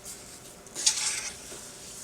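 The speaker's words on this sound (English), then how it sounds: "And give it a mix." Quinoa, veggie broth and a bay leaf being stirred in a pot, a soft brief scraping swirl with a light clink midway, quiet and close, no talking.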